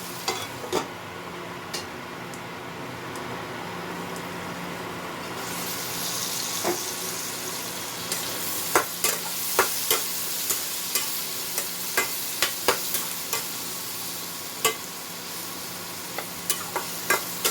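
Steady sizzle of potatoes and onions frying in a pan, with repeated sharp scraping knocks of a spatula stirring, growing louder and busier partway through.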